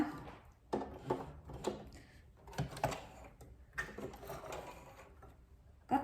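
A sewing machine stitches a buttonhole in fabric, with bursts of rapid mechanical clatter and ticking starting and stopping several times, fairly close and moderate in level with no talking.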